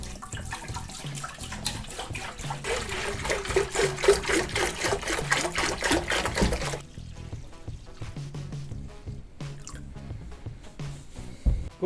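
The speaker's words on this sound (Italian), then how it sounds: "e lo versiamo all'interno della vasca" Diluted ultrasonic cleaner solution is poured from a container of preheated water into the cleaner's tank during a Vespa 50 L engine restoration, a close, continuous splashing stream that stops abruptly partway through, leaving faint drips and handling clatter.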